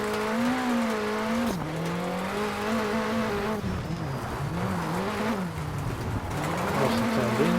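Rally car in the WRC 8 racing game, its engine note rising and dipping steadily as it brakes lightly and turns into a corner, loud and continuous with someone talking faintly underneath.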